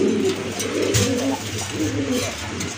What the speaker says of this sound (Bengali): ভিতরে ডাউকা কবুতর, আর ডাউকা কবুতরগুলো কিন্তু বর্তমানে রেয়ার বলা চলে।